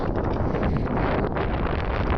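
Strong wind on Ljuboten peak in the Šar Mountains buffets the microphone in a continuous, loud, rumbling roar with no break.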